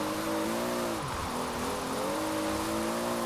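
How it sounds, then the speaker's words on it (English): A Toyota Supra with slightly wider tires spins its rear wheels in Forza Horizon 4, a loud, steady engine drone near and alone, pitch wavering and dipping briefly then climbing again. "It's spinning those rear wheels like crazy."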